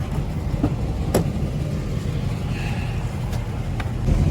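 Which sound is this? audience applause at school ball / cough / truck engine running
truck engine running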